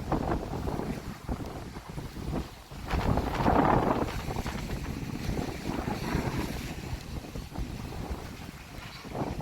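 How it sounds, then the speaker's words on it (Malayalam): Strong wind buffets steadily with a dense wash of heavy rain beside the NH66 highway in Kasaragod, rumbling low and rising briefly in a louder gust. "നല്ല മഴ കാറ്റ് സൂപ്പർ മഴ കാറ്റാണ് വരുന്നുള്ളത്"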